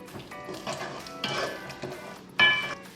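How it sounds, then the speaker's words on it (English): Chickpeas in barbecue sauce with minced garlic being stirred in a pan, with a steady close sizzle, repeated scraping strokes and a louder clatter near the end. "You're just gonna stir everything together"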